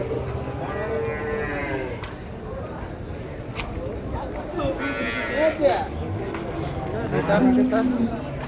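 Cattle lowing at the Vaniyambadi cattle market: a few drawn-out moos rise from the middle distance amid steady crowd noise, with people talking throughout.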